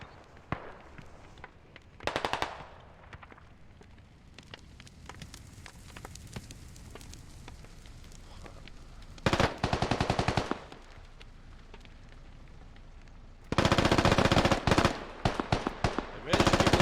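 Bursts of automatic gunfire in a Russian-versus-defenders military simulation game firefight around a forward operating base, with sustained rapid volleys around two, nine and fourteen seconds over a steady background of distant shooting and ambience.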